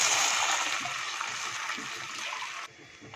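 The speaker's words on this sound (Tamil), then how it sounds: "இப்போ நம்ம தண்ணி ஆட் பண்ணிக்கலாம்." Water pours steadily into a pan for vegetable rava upma, a continuous splashing rush near and clear that cuts off abruptly near the end, leaving quiet.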